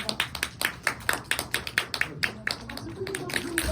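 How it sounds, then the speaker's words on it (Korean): Audience at a Korean film screening Q&A claps in a sparse, rhythmic pattern of distinct hand claps, moderately near, steady for a few seconds before a soft voice rises at the end. "큰 박수 부탁드리겠습니다."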